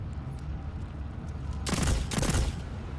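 Auto rifle gunfire from Destiny 2, a dense rapid burst of shots that starts partway through and rattles on in two close-spaced volleys over a low background hum.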